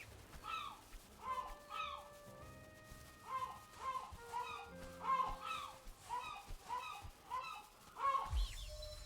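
Chickens in the Valheim video game cluck and squawk repeatedly in a steady run of short calls, close and loud, with no talk over them.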